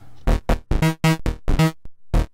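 Bass synth driven through an Erica Synths Dual Drive in its aggressive third mode with quad LFO modulation, heard as a run of loud, gritty, harmonically rich notes in an uneven rhythm, the distortion swelling and closing between hits.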